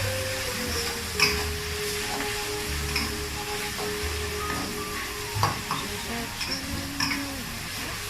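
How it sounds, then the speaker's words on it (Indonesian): Rice vermicelli and spring onions stirred and fried in a pan, a steady sizzle with scraping stirs and occasional clinks of the utensil against the pan, close and continuous without talk. "Kasih daun bawang nih guys, aku aduk-aduk."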